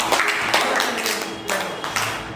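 Schoolchildren in a classroom applaud a classmate, producing a short burst of uneven group clapping from a crowd of small hands, fairly loud and close, with no speech over it.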